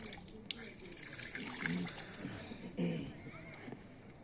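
Tap water runs and splashes during face washing at the Sennimalai Murugan hilltop temple, with soft uneven gushes and drips. A voice talks over the water throughout.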